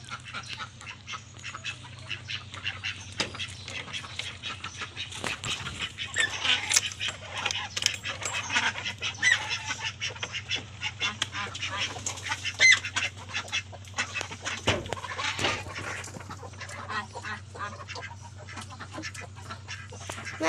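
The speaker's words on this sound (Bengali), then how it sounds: "এবার ঘরের হাঁস মুরগি দেখো কি করে" Household ducks and chickens feeding at close range, with steady quacking and clucking chatter and scattered pecking and jostling noises over a constant low hum for the whole stretch.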